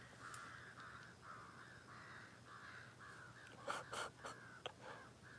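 Crows caw out in the open beside an aerated winter lake used for pike fishing, a series of hoarse calls at moderate distance, then a louder burst of several caws near the end over a low steady hum.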